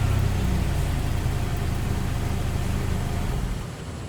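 A 2002 Hyundai Avante XD with an exhaust leak at the middle of the muffler idles in a steady, broadband rumbling hiss close up, the engine drone continuous and even before easing off at the very end.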